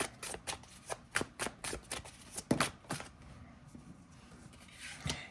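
Tarot cards being shuffled close up, a quick series of riffling flicks and soft snaps that trail off into a quieter rustle, then one final flick.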